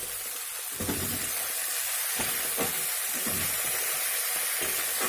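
Chopped carrot, beans and capsicum fry with salt in a pan for fried rice, giving a constant close sizzle broken by several scraping stirs at a regular pace.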